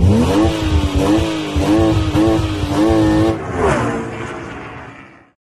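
Citroën DS5 Hybrid car passing with a rising, wavering engine note that swells loudly, then fades away with a whoosh, no talking.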